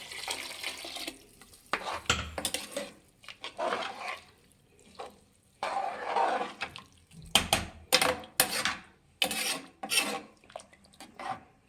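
Water is poured into a pan of fried rice while cooking methi bath, a fenugreek rice dish, in uneven bursts of splashing and rasping scrapes with short quiet gaps between them.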